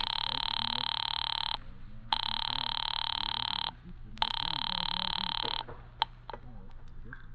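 A telephone in an old-time radio drama rings in long repeated bursts separated by short pauses, a steady electronic tone heard close while a voice murmurs underneath.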